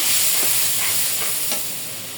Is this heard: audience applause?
no